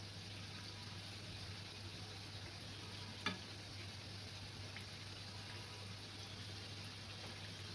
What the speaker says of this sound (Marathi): हे बघा, मस्त असा रंगापर्यंत येईपर्यंत असं आपण तळून घेऊया.